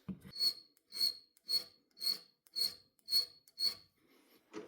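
A file being drawn across the extractor hook of a 1911 pistol, seven steady rasping strokes about half a second apart, close and crisp, with quiet gaps between them.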